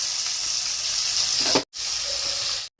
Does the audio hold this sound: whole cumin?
yes